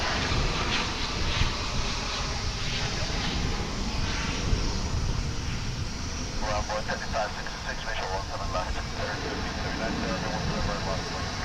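A cargo jet arriving from Anchorage at Dallas/Fort Worth airport gives a moderate, steady engine rumble at a distance, with some wind and a voice talking over it.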